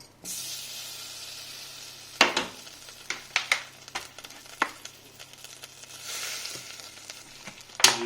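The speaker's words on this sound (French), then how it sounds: "On va commencer par faire suer l'échalote dans un peu de beurre et un peu d'huile neutre." Shallot sweating in a pan with butter and neutral oil, a gentle continuous sizzle broken by scattered utensil clicks and scrapes, swelling louder near the start and again toward the end, with no one speaking.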